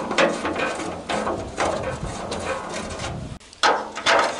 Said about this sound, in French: maintenant je retire les écrous qui fixaient les boulons que je devais souder